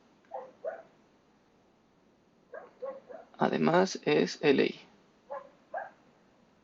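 Dogs barking in short pairs of yips at a distance, spaced across the clip, while a man lectures close by in Spanish.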